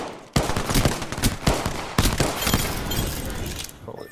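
Video game gunfire, loud close shots in rapid bursts and single cracks for several seconds, with a speaking voice faintly underneath.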